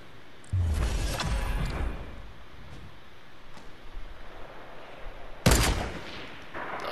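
Gunfire in the video game Fortnite, with a loud burst of shots near the start, quieter ambient game noise in between, and another sharp volley near the end.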